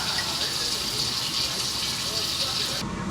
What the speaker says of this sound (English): So I am washing all my jars to start with really thoroughly.